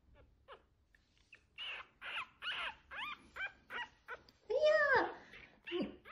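A dog whimpers nearby in a string of short, high whines and yelps, with one longer, drawn-out whine near the end.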